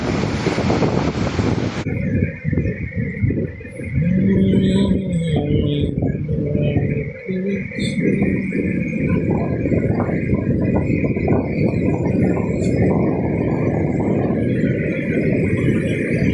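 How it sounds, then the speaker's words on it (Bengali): Sea waves breaking on the beach at Kuakata, where rows of fishing boats are drawn up on the sand, a steady roaring surge mixed with wind buffeting the microphone. "সমুদ্রের গর্জন শোনা যাচ্ছে"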